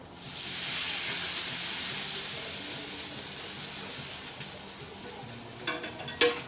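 Chicken coated in yogurt sizzles and hisses steadily in a hot pan while cooking for gyros, with a broad frying hiss throughout and a few sharper scrapes and clicks near the end.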